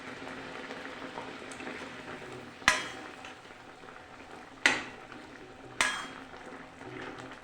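A pan of Bengali egg curry with garam masala simmers under a low bubbling hiss, broken by three sharp metallic knocks of a spoon against the pan, each fading quickly.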